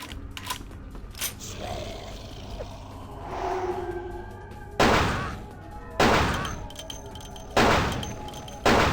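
Gunfire in Vampire the Masquerade Bloodlines, several loud booming shots spaced about a second apart, coming after a stretch of quieter game ambience and scattered clicks.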